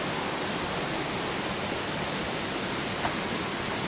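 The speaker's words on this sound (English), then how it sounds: "Look at the waterfall." Waterfall roaring as a dense, steady broadband rush, constant and close with no breaks and no talk.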